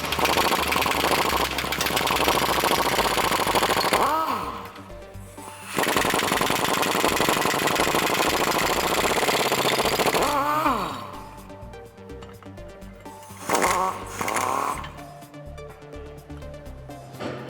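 A power impact tool hammers off 19mm U-bolt nuts on a Toyota Tacoma axle in several loud rattling bursts of a few seconds each, separated by quieter gaps with clanks and whirring spin-downs.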